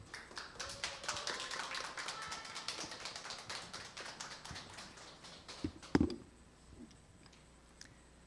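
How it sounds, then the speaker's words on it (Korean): Audience applause at a Korean company business seminar as a speaker is welcomed to the stage, a dense patter of clapping that carries on for several seconds, then thins out after a sharp knock and fades to a quiet room. "박수 부탁드립니다"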